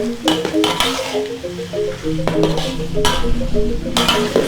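Garlic frying in a pan for smoked skipjack tuna sambal, with a moderate sizzle under repeated clinks and scrapes of a utensil stirring against the pan.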